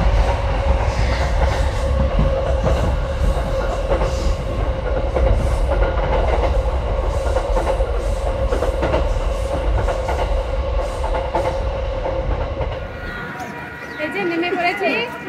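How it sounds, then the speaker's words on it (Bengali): Train rolling into Krishnanagar railway station in West Bengal, a loud steady rumble with clickety-clack of wheels and carriage noise throughout, easing off near the end, with people talking faintly underneath. "এই যে নেমে পড়েছি কৃষ্ণনগর স্টেশনে।"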